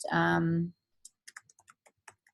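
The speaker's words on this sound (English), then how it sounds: "That's what I'm typing in here." Keystrokes on a computer keyboard while text is typed into a magazine cover layout, a sparse run of light clicks at an irregular rhythm following a brief burst of voice at the start.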